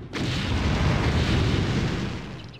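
Cannon fire in Anno 1602 breaking through a wall, a single heavy boom with a rumbling tail, loud and up close.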